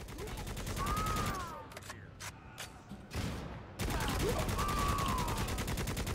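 Dense, rapid gunfire in the video game Necromunda: Hired Gun, loud and continuous with a brief lull of a few separate blasts in the middle before the heavy firing resumes. There may be voices under the shooting.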